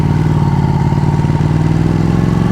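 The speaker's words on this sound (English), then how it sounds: "Oh, what a sick exhaust." Ducati Panigale 1199 S exhaust pulses in a loud, close, throbbing engine note, steady and continuous with slight rises in pitch.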